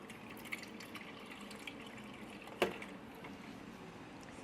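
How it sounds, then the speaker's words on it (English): Almond milk is poured into a smoothie blender at a Puregreen smoothie shop, a soft, steady liquid stream with a single sharp clunk partway through. "We are adding some coconut, no, excuse me, some almond milk."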